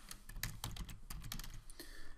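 Rapid, steady typing on a computer keyboard enters a menu name. The keystrokes are close and clicky and run in quick succession without pause.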